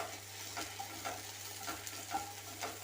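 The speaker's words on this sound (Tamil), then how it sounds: "சேர்த்து வதக்கி விட்டுக்கலாம்" Ginger stirred and sautéing in a pan for a buttermilk okra curry, soft oil sizzle with repeated scraping stirs at close range, no voices.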